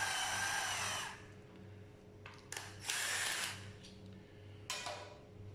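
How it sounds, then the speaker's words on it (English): A cheap cordless drill driving a screw: a close whirring motor burst, then a pause, then several shorter whines of varying length, each starting and stopping abruptly over a low background hum. "You can also use it as a screwdriver, like that."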